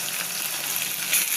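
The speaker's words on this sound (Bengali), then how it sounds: "মশলাটাকে ভালো করে ভেজে নেব লাল লাল করে" Spice paste of cardamom, ginger, cumin and garlic frying in a pan, a dense, even sizzle heard up close for a brief moment with nothing else over it.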